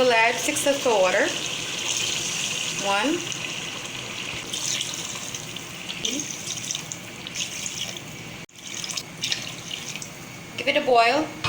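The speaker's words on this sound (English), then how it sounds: "Now we will add 6 cups of water." Water pours into a cooking pot of chicken, chickpeas and tomatoes for a rice pulao, a steady splashing stream under a voice that counts aloud.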